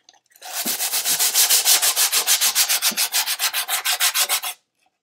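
Quick rhythmic scrubbing of 60-grit sandpaper on wood, about twenty even strokes in a row, close and fairly loud, then silence.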